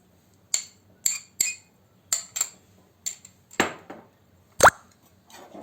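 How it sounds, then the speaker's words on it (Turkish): A cracked egg dropped onto yogurt in a bowl while making Turkish yogurt soup: a run of sharp, separate taps and clinks, then a heavier wet plop, each standing out against a quiet background. "Yoğurdumuzu da ekledikten sonra yine üzerine kırmış olduğumuz bir yumurta ekliyoruz"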